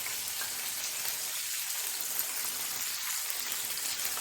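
Meat searing in a hot pan gives off a steady, close sizzle, a dense hiss that holds level throughout with no speech over it.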